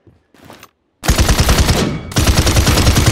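Barrage ultimate ability firing in Paladins: a brief faint burst, then loud, rapid machine-gun-like volleys of shots in quick succession, continuing to the end.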